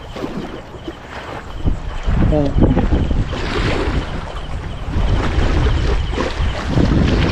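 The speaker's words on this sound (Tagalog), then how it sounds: "Tsaka malakas pa ang alon ngayon." Strong sea waves roll and crash near a boat amid gusty wind buffeting the microphone, a loud continuous roar with surging swells; a voice speaks one brief word.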